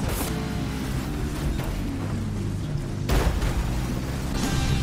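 A car crash in the video game Burnout Paradise Remastered, heard as a heavy, rumbling impact with grinding metal that swells into a second loud crunching hit near the end, continuous and loud.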